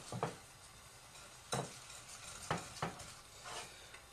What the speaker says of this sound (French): il faut verser la crème dans la casserole et continuer à mélanger